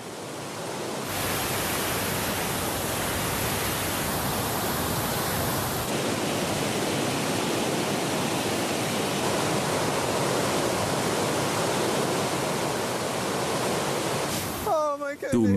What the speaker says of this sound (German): das ist ein gewaltiger Wasserfall